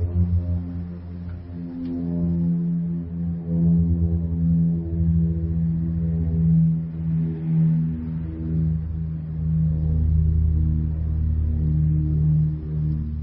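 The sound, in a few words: old Soviet propeller plane flying over the city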